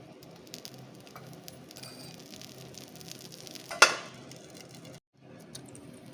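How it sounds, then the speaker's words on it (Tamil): Methi dosa frying in oil on a hot pan, a soft steady sizzle and patter running throughout, with one sharp crackling burst midway and a brief drop to near silence before the sizzle resumes. "எண்ணெய் விட்டுட்டு மூடி வைக்க போகிறேன் நான் இப்போ."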